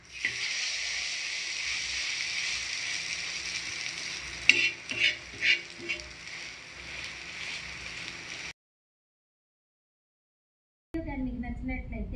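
An egg masala omelette with mint cooks on a low flame, giving a steady close sizzle with a few stirring and scraping clicks. After about eight seconds it cuts to silence, then a brief unrelated sound follows.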